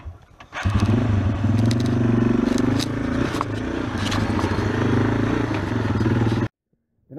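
1993 Yamaha XT225 Serow trail bike ridden on a rough trail, its single-cylinder engine buzzing loud and close over scraping and clattering from the ground, then cutting off abruptly near the end.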